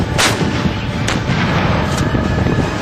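Booming blasts from an M777 ultralight howitzer artillery gun, heard as three sharp reports under steady wind and rumbling background noise.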